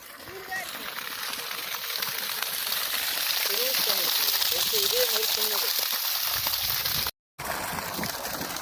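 A 5 hp solar borewell pump drawing from 300 feet pushes out a steady, splashing rush of water, with voices talking over the flow before it cuts out briefly.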